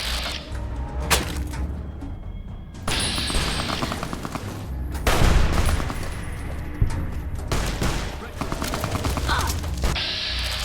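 SMG gunfire in Fallout: New Vegas crackles in rapid bursts over a noisy combat scene with thuds and impacts, loud and close, broken by short gaps.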